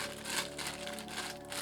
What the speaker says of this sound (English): Crunch it up a bit to make some lines in your